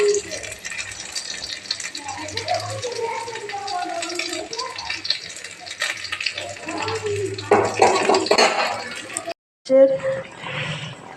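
Bhola fish curry bubbling in a pot, a steady, busy simmer with rattling and watery churning that runs throughout, a brief gap near the end, then the bubbling resumes.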